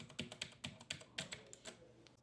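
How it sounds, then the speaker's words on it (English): A Ducky mechanical computer keyboard clacks under a burst of typing, about ten crisp, distinct keystrokes in an uneven rhythm, close and clear with no talk. "Now that's a good sounding keyboard if you ask me."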